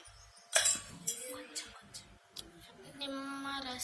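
A spoon stirs and scrapes biryani ingredients in a pot, giving scattered metallic clinks and knocks at an uneven pace, close and fairly quiet.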